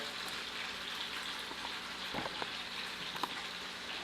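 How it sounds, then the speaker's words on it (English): Chicken sizzling in a pan over low heat for sweet and sour chicken, a steady faint crackling hiss with a few louder pops, continuous and alone without talk. "The chicken's going to sizzle the whole time."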